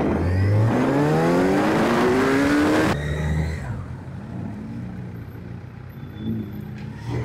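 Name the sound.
superbike engine revving during a group ride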